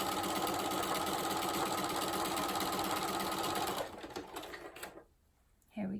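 A sewing machine stitches quilt patches for a 16-patch block, running as a fast, steady mechanical whir for almost four seconds, then slowing into a few stuttering stitches before going quiet, with a brief thump near the end.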